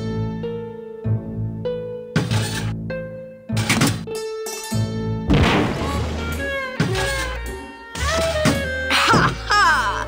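In the game Grim Fandango, a detonator destroys a bomb: a series of heavy, loud thunks and crashes over a music bed, with no voices.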